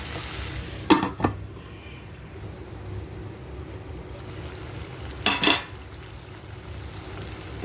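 Onion stirred into frying chicken in a pan, a low continuous sizzle broken by two brief bursts of spoon scraping against the pan, one early and one near the end.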